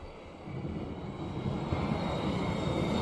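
A military aircraft in a combat video game drones overhead, a steady engine roar that swells gradually over a few seconds with no voices.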